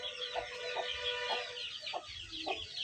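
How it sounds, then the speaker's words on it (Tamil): A mother hen clucks in short, repeated calls against a steady chorus of other birds, fairly close with no talking. "இது ஒரு தாய்க்கோழி"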